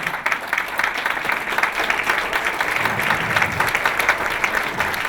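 Audience applause at a gathering about the situation in Syria, a dense, steady wash of many hands clapping throughout, with no talk on top.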